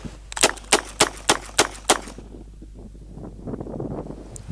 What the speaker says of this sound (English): I'll just show you the rapid fire with this